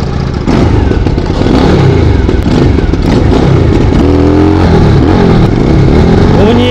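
A Benda Napoleon 250 motorcycle engine revs loudly up close, its throaty note climbing in pitch as it accelerates, then easing off and rising again.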